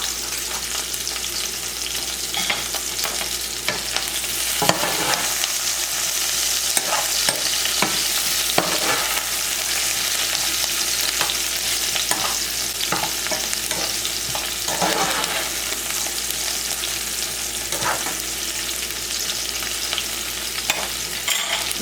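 Celery and chili peppers fry in a pan on low heat, giving a steady close sizzle, while a utensil scrapes and stirs in repeated strokes for the whole stretch, with no voices.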